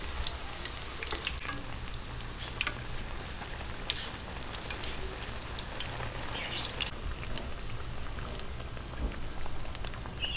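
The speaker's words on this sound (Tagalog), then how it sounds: "Tuloy-tuloy lang po natin prituhin hanggang sa matapos." Vegetable okoy fritters fry in oil, a continuous close crackling sizzle with scattered pops and spatters and no talking.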